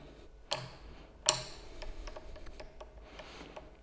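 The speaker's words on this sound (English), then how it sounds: "I can put on like so, and quickly wind with the string winder." Quick ratcheting clicks and light mechanical ticking from a string winder turning the tuning peg of an electric guitar during restringing, with two sharp louder clacks early on, then a faint steady clicking run, close and alone.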